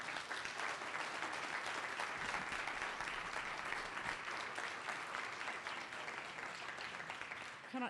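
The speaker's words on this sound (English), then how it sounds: "Can I just ask that you hold your applause?" Audience at a public coal-leasing listening session in Denver breaking into dense, sustained applause that stays loud throughout, with some scattered voices mixed in.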